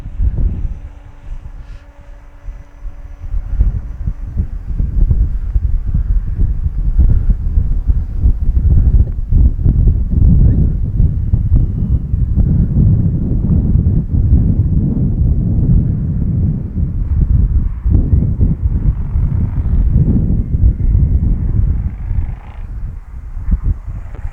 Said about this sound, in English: Oh, it's just so windy.